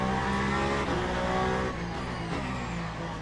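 Race cars in Le Mans Ultimate at Imola roar loudly and steadily at close range, engines revving through a crash in which a Porsche is tapped by a Peugeot and spins, with tyre squeal flaring briefly.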